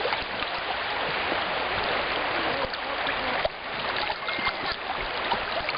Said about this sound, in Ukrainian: Перепливаємо черговий поріг.